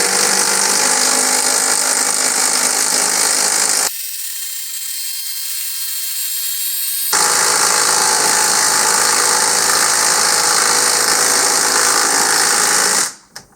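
A 12-volt impact driver sinks a 6-inch lag bolt into pressure-treated wood with no pilot hole. The loud, close rattling hammer of the driver runs in two long bursts with a brief quieter stretch between them, then cuts off abruptly.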